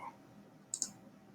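Two quick, sharp computer mouse clicks come close together and close up, set against a quiet room hush.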